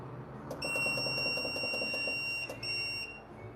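An electronic device with a switch in a home DIY setting emits a long, loud, shrill high-pitched beep with a rapid pulsing pattern, then a brief break and another tone, close and without talk.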